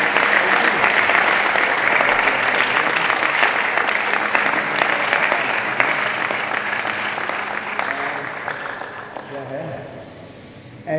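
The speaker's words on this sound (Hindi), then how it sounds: "और देखो इधर तो एक बार जोरदार तालियां है देवात्मजा की।" Loud, sustained applause fills a live yoga session studio, a dense wash of clapping that fades gradually toward the end, with voices faintly underneath.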